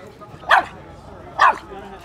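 A dog gives two sharp, close barks about a second apart, loud against a quiet background.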